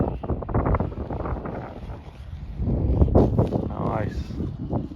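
Strong wind gusts buffet the microphone outdoors while an FMS Baehawk RC plane is flown in very high winds, a steady low roar swelling and easing throughout, with people talking over it.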